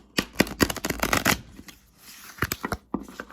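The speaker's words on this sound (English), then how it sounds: "10 minutes and I'm still shuffling." A new tarot deck being shuffled by hand, a close run of crisp riffling bursts and card slaps with a quieter gap in the middle, no voices heard.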